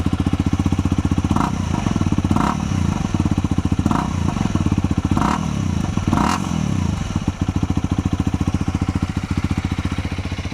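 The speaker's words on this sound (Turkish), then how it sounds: "ara gaz verelim." A Honda CL250 single-cylinder motorcycle engine idles with a steady thumping rhythm, blipped up in several short revs, close and loud.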